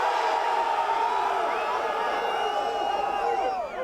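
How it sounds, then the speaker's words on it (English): A large crowd of soldiers at a military base in Port au Prince, Haiti, roars in loud, sustained cheering and whooping, with overlapping voices that hold steady throughout. "per person they deserve a good applause"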